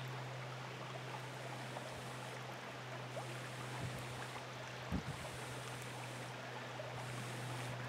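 Steady breathy blowing across a small ember to coax a fire to life, a close, even rush of air that runs through the whole stretch with a faint hum underneath and a couple of soft crackles.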